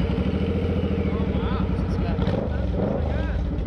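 A Suzuki Boulevard C50 motorcycle engine runs with a steady, deep, Harley-like rumble close by, continuous throughout while people talk over it.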